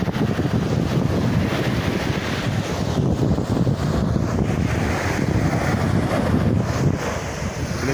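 Wind-driven waves wash steadily against a lake shore near the Congo border, a continuous loud surf roar mixed with gusty wind buffeting the microphone, with no voices.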